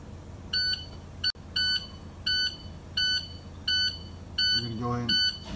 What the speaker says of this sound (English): Sorry about the alarm, guys, but my air pressure is a little low